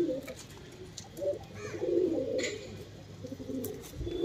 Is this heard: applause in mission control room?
no